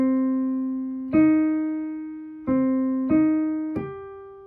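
A piano plays the first five notes of a spooky Halloween tune at speed, clean separate notes that each ring and decay, sounding alone without talk.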